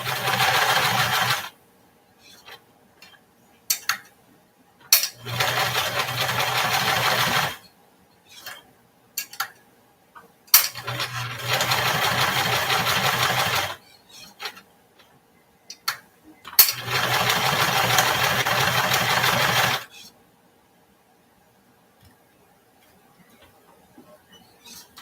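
Sewing machine stitching a heart-shaped pillow: four steady runs of motor whir and needle chatter, each a few seconds long, separated by quiet pauses with small clicks and handling noises as the fabric is turned.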